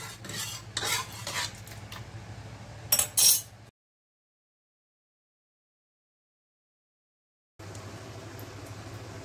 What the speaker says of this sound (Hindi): एक तरफ मैंने पैन चढ़ा दिया है